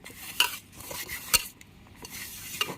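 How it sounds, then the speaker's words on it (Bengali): Flour and a little oil are mixed by hand for momo dough, giving faint soft rubbing and stirring noises with a few sharp clinks of a utensil against the bowl. "এবার ভালো করে তেলটা দিয়ে আমি মিশিয়ে নেব ময়দাটা।"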